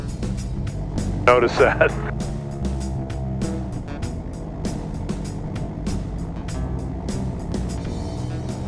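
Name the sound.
Icon A5 light aircraft engine idling at 2,000 RPM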